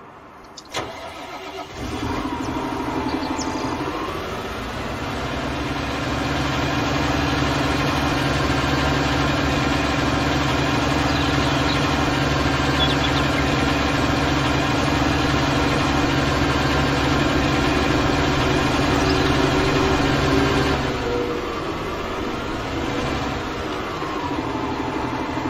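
A tractor engine in Farming Simulator 19 turns over and settles into a steady, loud mechanical idle that drones on evenly for the whole stretch, with a faint change near the end and no speech.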